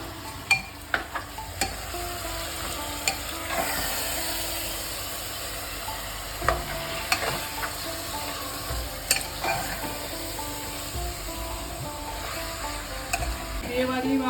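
Marinated mutton for mutton kosha fries in a hot pan with a steady, hissing sizzle, while a spoon scrapes and taps against the pan at irregular moments.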